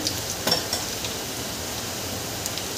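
Steady, fairly quiet sizzling of garlic frying in oil for tempering, with a couple of faint metallic clinks.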